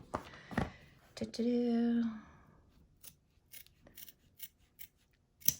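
Scissors snip through embroidery material held in a hoop in a few sharp cuts, followed by quieter rustling and small taps; close and fairly clear.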